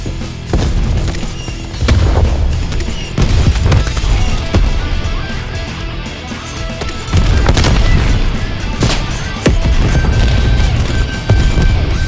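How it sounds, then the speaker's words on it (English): Grenade launcher killstreak blasts in Call of Duty Black Ops Cold War boom in rapid succession, loud, heavy explosions and crashes layered over continuous gunfire and game noise, with no talking. "let us marvel at this great run with the grenade launcher killstreak"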